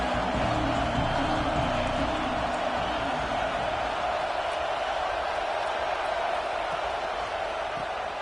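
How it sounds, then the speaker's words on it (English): Steady roar of a football stadium crowd at a game, a dense continuous wash of cheering and noise that holds at a constant level from start to end with no break. "This crowd ready to make its presence known."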